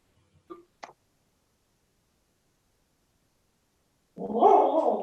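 A dog barks twice in quick sharp bursts indoors near a microphone during an online meeting, followed after a pause by a louder, sustained noisy bark or growl toward the end.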